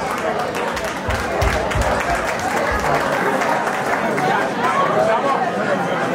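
A large audience applauds at a 2019 national community conference in Adelaide, Australia: dense, steady clapping that fills the room, mixed with crowd chatter and cheering for about six seconds.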